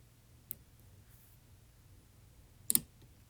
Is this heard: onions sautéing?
no